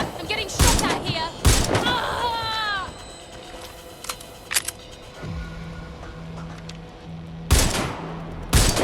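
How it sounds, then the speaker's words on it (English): Loud, sharp gunshots in the video game Watch Dogs: Legion: two quick bursts near the start and another near the end, with a low tonal hum and scattered clicks between them. "I'm getting shot at here."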